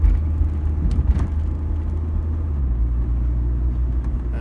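Car driving through the streets of Vordingborg, Denmark, heading west toward a service station: a steady low engine rumble and road noise, close and continuous, with a few brief bumps early on and no talk.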